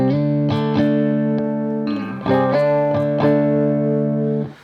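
Electric guitar through a Behringer TO800 vintage tube overdrive pedal with the drive turned all the way down, sustained chords and single notes ringing with a lightly colored, mostly clean tone, played alone.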